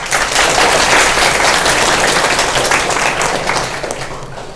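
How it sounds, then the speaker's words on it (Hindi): An audience at a school session breaks into loud, sustained applause, a dense wash of many hands clapping that slowly thins toward the end. "ताली हो जाए।"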